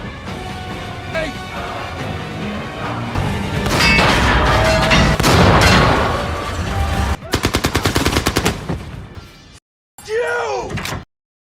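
Machine gun fire rips through a battle scene in the war film Fury, with rapid bursts and booming blasts mixed with shouts and groans, then a sharp burst of regular shots, loud and close.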